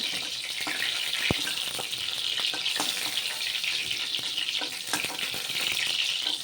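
Pointed gourd (potol) fries in hot oil with a continuous, fairly loud sizzle. Occasional sharp pops and light scraping sounds rise above it.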